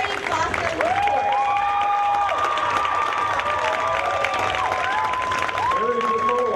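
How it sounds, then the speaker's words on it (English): Audience applause and cheering at the 2015 Northern California Cherry Blossom Queen program as the court is presented, a dense, steady wash of clapping that fills the room for the whole stretch, with bright tonal whoops rising above it. "A big round of applause."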